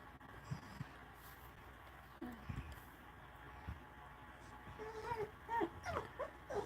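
A dog gives a few short, soft barks, then a run of high whimpers and whines that grows louder and more frequent toward the end, close by, with a person talking quietly in the background.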